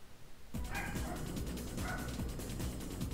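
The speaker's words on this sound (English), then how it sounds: "Sorry about the dog barking at the last second." A dog barks in a quick series of close, sharp yips and woofs starting abruptly after a brief quiet moment, continuing in an uneven rhythm until the end.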